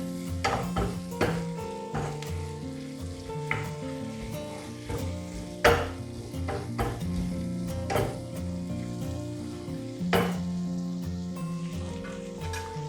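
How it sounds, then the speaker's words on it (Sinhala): Tuna dry fish curry sizzles and fries steadily in a pan, with scattered clinks and scrapes from stirring breaking through the continuous crackle, close and fairly loud, no talking. "මේක මෙන්න මේ විදිහට බැදෙන්න දෙන්න ඕනේ"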